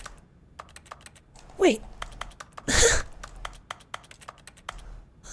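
Rapid computer keyboard typing clicks in The Stanley Parable Ultra Deluxe, an even patter of keystrokes throughout, broken by a short spoken word and a louder rushing burst partway through.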